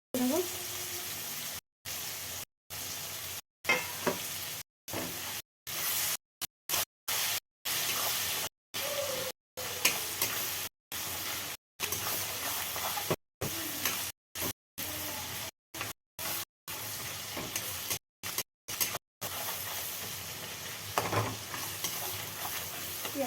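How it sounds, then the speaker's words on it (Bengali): Chopped onion with black cumin fries in a pan, a steady, close hiss and sizzle that runs on and on, broken by many short gaps, with faint stirring scrapes. "পেঁয়াজটা ভাজা হোক"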